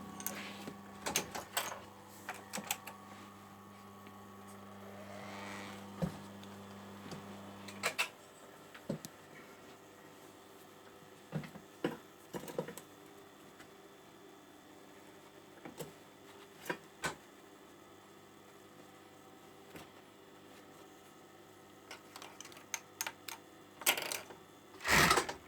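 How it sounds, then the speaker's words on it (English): A domestic overlocker stitching the side seams of a hoodie through thick layers of fabric, with a steady mechanical hum for the first eight seconds, then quieter handling, scattered ticks and clicks, and a short loud burst near the end. "Now to overlock it."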